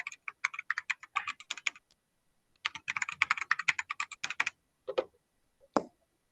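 Someone types a password on a computer keyboard while setting up Linux in VirtualBox. Two quick runs of close, crisp key clicks are followed by a few single taps, with silence between and no voices.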